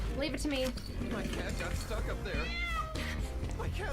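A cat meows repeatedly in the video game Zenless Zone Zero, with short pitched cries over busy background music and faint clinking, mixed under ongoing talk.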